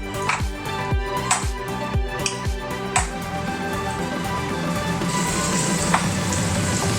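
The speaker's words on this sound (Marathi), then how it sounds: "त्याच ग्रेव्हीमध्ये आता आपण हे टॅमॅटो टाकतोय" Tomato pieces hit a hot pan of gravy for butter chicken in a run of quick thuds and splats, then settle into a loud, continuous close sizzle and fry without any talking.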